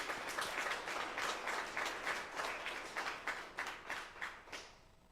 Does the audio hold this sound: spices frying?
no